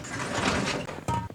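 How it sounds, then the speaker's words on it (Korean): A sliding window is pushed open indoors during a lecture, a broad rushing scrape followed by a couple of short knocking clunks as it runs and stops, heard alone at close range. "여러분 저 좀 더운데 창문 좀 열어볼게요."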